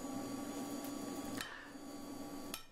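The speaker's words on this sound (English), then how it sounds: "just whack it on top with a hammer" A hammer strikes a metal lantern bracket twice, with a sharp knock and then a second ringing hit a second later, both over a steady background hum.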